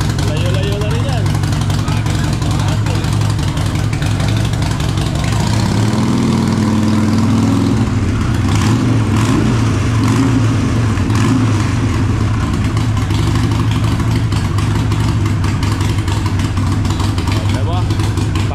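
An 883 cc motorcycle engine idles with a deep, steady rumble throughout, close by, with people talking over it.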